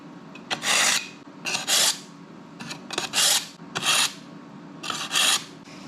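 A knife works through a summer flounder (fluke) fillet in repeated rasping strokes, each a short scraping burst separated by brief pauses, close and fairly loud with no talking.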